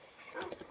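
A dog in a village-building video game gives a short, faint bark-like yip with a whimpering edge, heard over a low, hissy background.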